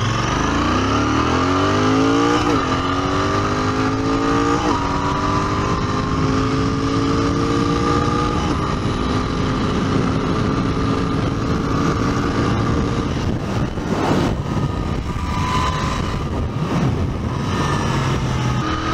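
A Royal Enfield Continental GT 650 parallel-twin motorcycle accelerating hard on the road, engine note climbing through rising harmonics with gear changes, loud and close under steady wind rush.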